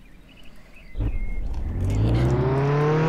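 Car engine in the Roblox Jailbreak video game revs up hard, starting low and climbing into a loud, rising whine that keeps building to the end, with a steady motor hum underneath.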